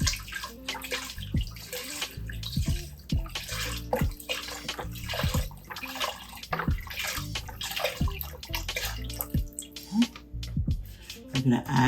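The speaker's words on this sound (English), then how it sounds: "We're going to put our broth in till we cover our meat." Broth poured into a pot over meat for pumpkin soup gives steady splashing and sloshing with gurgling bursts, close and fairly loud, with a person talking over it.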